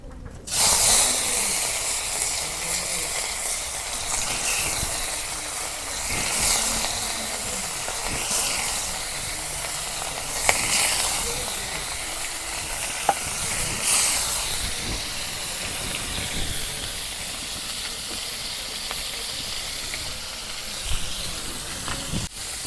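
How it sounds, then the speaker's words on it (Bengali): Fish frying in hot mustard oil in a wok, a loud sustained hiss and crackle with occasional utensil clicks and bursts of spitting oil, close and continuous throughout. "মাছ আমার 1 পিস ভাজা হচ্ছে"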